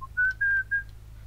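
Inside a car, someone whistles a short tune of three or four clear, sustained notes over a low, steady rumble from the car.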